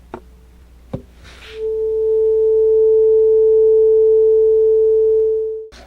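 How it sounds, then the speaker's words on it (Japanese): A steady 440 Hz sine test tone holds clean and loud for about four seconds after a couple of brief clicks, then cuts off abruptly. "空気が1秒間に440回振動している音ですよ"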